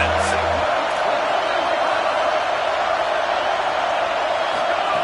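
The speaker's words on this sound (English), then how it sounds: "Big 3rd down as the crowd gets behind this defense." A stadium crowd cheers at an American football video game, a steady, continuous roar that stays level throughout.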